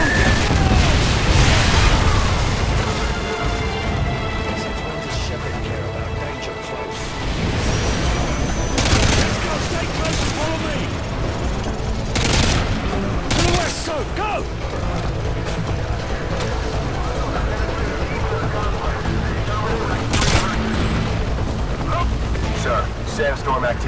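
Artillery fire mission in Call of Duty Modern Warfare 2, heavy booming explosions and bursts of gunfire crashing repeatedly over a dense roar of battle, with voices and radio chatter mixed in.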